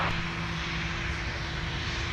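A fixed-wing airplane rolling down runway 17 for takeoff at Minneapolis–St. Paul airport, a steady loud engine roar with a low droning hum holding constant throughout, no voices.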